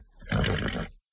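A single loud, close horse neigh as a sound effect, a rising then falling whinny lasting about a second before cutting to silence.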